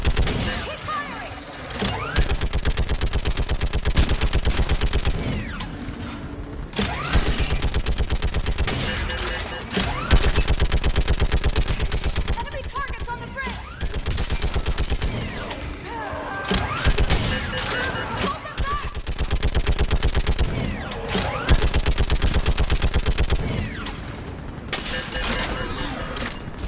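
Sustained automatic gunfire and bursts in Mass Effect 3 combat, loud and nearly continuous across the clip with brief lulls, mixed with game battle noise and shouted voices.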